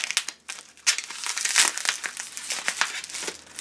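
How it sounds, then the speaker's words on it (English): Heavy-duty bubble wrap around a boxed mug being ripped open, loud continuous crinkling and tearing in bursts right up close, with no speech. "it's super heavy-duty bubble wrap. Let's see if I can rip this thing open."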